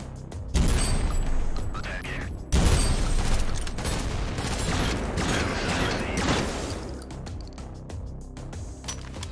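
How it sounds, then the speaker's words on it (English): Rapid gunfire in the shooter game Synthetik, dense overlapping shots and mechanical clatter with a few heavy booming hits, loud and close, then tapering into lighter clicks with no talking. "Rapid shots."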